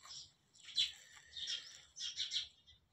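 Small birds chirping inside a cowshed where ten cows roam freely in cold weather, short bright tweets in several bursts, moderately close with no talk.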